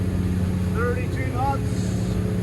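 A Cranchi M44 HT boat runs its twin Volvo Penta D6 400 hp engines at 3,600 RPM, a loud steady droning hum with strong low harmonics and rushing wind and water, with someone speaking over it.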